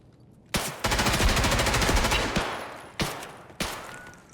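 Gunfire in Escape from Tarkov on the Factory map: sharp, loud shots in quick bursts. A long rapid string of shots comes first, then a few single cracks, all close and alone.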